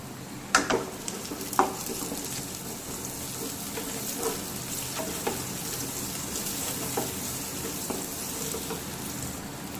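Curry leaves and asafoetida fry in hot oil while cooking a potato fry, giving a steady close sizzle and crackle with a few sharper pops and stirring scrapes near the start.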